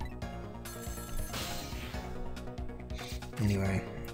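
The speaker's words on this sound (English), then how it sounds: "Somebody please answer the phone." A telephone rings in the video game Ghost Trick, its bell sounding repeatedly through the clip alongside game music and a louder burst near the end, with a voice talking over it.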